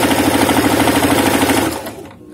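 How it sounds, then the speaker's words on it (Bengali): A sewing machine stitches the side seams of a baby frock, a loud rapid steady chatter of the needle running continuously before slowing and stopping near the end. "আমি ঠিক একইভাবে কিন্তু দুই সাইডে সেলাই করে নিব।"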